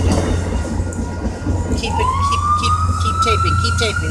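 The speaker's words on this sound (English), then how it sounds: "There's a police car trying to cross over the tracks" Near a railroad crossing, a police car siren rises into a wailing tone over the steady rumble of a passing train, with crossing-bell pings and traffic noise around it.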